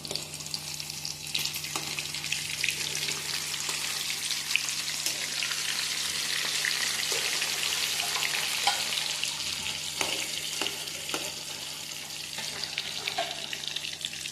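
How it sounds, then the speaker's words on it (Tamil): Chicken pieces deep-frying in oil for chicken 65, a loud continuous bubbling sizzle close by, with scattered crackles and pops over the whole stretch and no voices. "எண்ணெயில் போட்ட சிக்கனை 6 நிமிஷத்துலேருந்து 7 நிமிஷம் வரையும் நல்லா வேக விடணும்."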